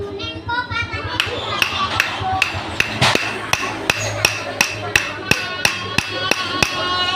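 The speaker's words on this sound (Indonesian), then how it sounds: "Kita pasang baut 12-an. Nah, di sini kita getok pelan-pelan." A hammer taps on a 12 mm bolt: a long, loud series of evenly spaced metallic knocks at a steady rhythm, with voices and background activity beneath.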